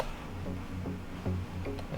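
A modified synth pluck from a melodic dubstep project file repeats softly in a steady rhythm. The short, fairly quiet notes sit over a faint sustained pad, with no talking.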